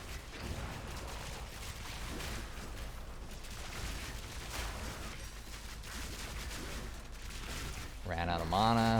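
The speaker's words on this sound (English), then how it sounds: "I hit the tree with those grenades." Grenade blasts and dense gunfire-like rumble from a Path of Exile 2 battle fill the scene continuously, with a tonal effect rising near the end; speech is present over the din.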